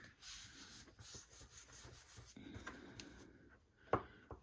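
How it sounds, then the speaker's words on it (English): Paper being folded by hand for a pink Christmas photo folio, with soft rubbing and sliding creases over a few seconds and a sharper crisp press near the end, close and fairly quiet. "I'm going to start folding the paper"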